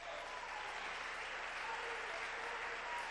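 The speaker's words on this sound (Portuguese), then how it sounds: "Give him a hand clap." A church audience at a special worship service claps together in steady, even applause, a quiet, continuous wash of hand claps lasting a few seconds with no talking.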